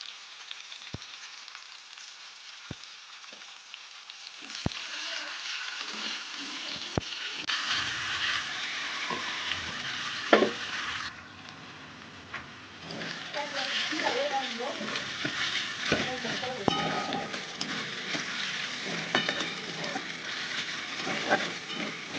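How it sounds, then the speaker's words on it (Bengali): Chopped onions dropped into hot oil for chicken curry, a few sharp clicks then a rising sizzle that continues steadily while a spatula scrapes and stirs, with a voice speaking faintly at times. "খুন্তি দিয়ে ভালোভাবে নেড়ে চেড়ে দিয়ে দিলাম"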